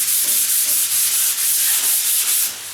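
Sandpaper scrubs by hand along a door edge in quick, even back-and-forth strokes, loud and close, with a steady rhythmic rasp throughout.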